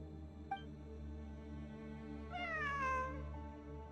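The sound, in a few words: cat meowing in video game Genshin Impact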